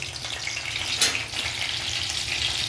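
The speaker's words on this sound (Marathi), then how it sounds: "मिरच्या आपल्या चांगल्या फ्राय होत आहे" Green chillies fry in hot oil in a pan while pav bhaji is being made, a continuous close sizzle with a brief sharp crackle or utensil knock near the middle.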